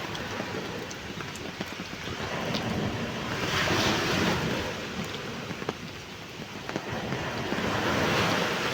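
Ocean waves wash onto a beach under an overcast sky, a continuous rushing surf that rises and falls in slow surges, mixed with wind buffeting the microphone and no voices.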